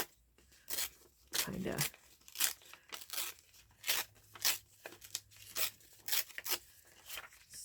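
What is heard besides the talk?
tearing something in half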